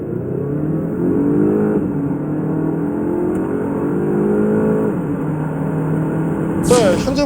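A Volvo S90 T5 sedan accelerating hard in an acceleration test, its engine a steady loud drone that climbs in pitch and drops with each gear change, with a brief high whine near the end.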